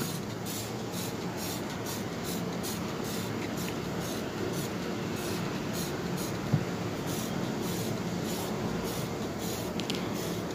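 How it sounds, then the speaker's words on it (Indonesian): Degreaser cleaner is sprayed around a home kitchen stove in a long, steady hiss with a faint repeating pulse, near and even throughout. "Nah, semprotnya satu persatu dulu ya."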